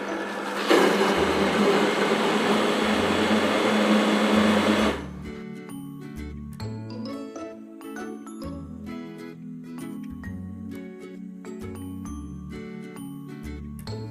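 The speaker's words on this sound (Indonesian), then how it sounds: "masukkan susu kental manis dan blender dengan kecepatan rendah" Blender mixing milk, cream cheese and sweetened condensed milk at low speed, a loud steady whirring motor for several seconds that cuts off abruptly, leaving quiet background music.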